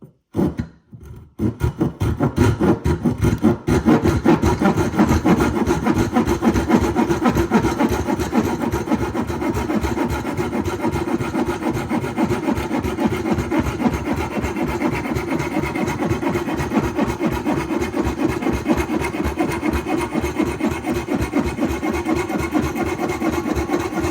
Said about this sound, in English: The Silky Saw. I'm just going to cut about a 1/2 inch off of it.